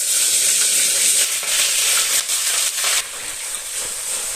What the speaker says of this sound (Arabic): لما الزيت يحمى ونقوم حاطين الفراخ نديها صدمه على ما الايه الميه تغلي